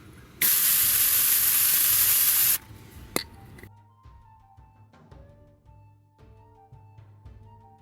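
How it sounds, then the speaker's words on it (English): A loud, steady burst of aerosol spray paint hisses for about two seconds onto a foam LARP sword's pommel and crossguard, followed by a sharp click and quiet rustling and light handling noises. "You can also do this type of stuff with spray paint as well."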